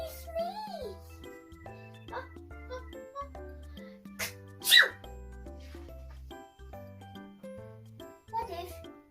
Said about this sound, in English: What if you try to sneeze more softly?